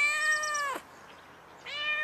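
A cat gives two clear meows, the first long and drawn out and the second starting near the end, separated by a short quiet gap, close and alone with no talk.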